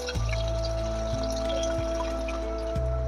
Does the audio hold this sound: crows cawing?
no